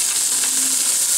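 Onions frying in hot vegetable oil in a pot, a steady bright sizzle that fills the whole moment, loud and close, with no voices.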